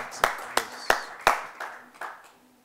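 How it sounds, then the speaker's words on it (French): Congregation at a church service clapping hands, a handful of sharp, sparse claps in an uneven rhythm, close and distinct, fading in strength toward the end. "Can we clap our hands for our God?"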